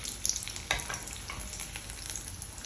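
Potato cheese bonda sizzle and crackle in hot oil, a dense, steady frying hiss with a few sharper pops, close and alone without talk.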